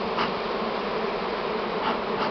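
Honey bees buzz steadily at an open hive while smoke is used on them, a dense, close, continuous hum with no voices.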